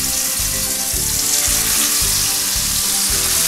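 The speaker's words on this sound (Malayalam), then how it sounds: "ഈ ചെമ്മീൻ ഒന്ന് വറുത്ത് കോരണം വറുക്കുക എന്ന് പറഞ്ഞാൽ ഡീപ്പ് ഫ്രൈ അല്ല ഒരു ഷാലോ ഫ്രൈ" Prawns shallow frying in oil on a tawa for a Kerala-style prawn roast give a loud, constant sizzle close by, with a low rhythmic pulsing as the pieces bubble and shift.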